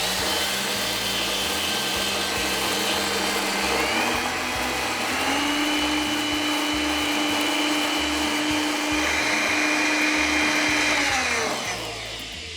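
A Blendtec blender with a Wildside jar grinds flax seeds into flour, a loud, steady motor roar running close and continuous, its pitch shifting slightly partway through before winding down at the end.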